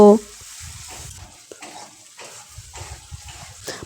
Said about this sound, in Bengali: ধনিয়া গুঁড়ো আর কাশ্মীরি রেড চিলি পাউডার সামান্য একটু জল দিয়ে মশলাটা ভালোভাবে কষে নেব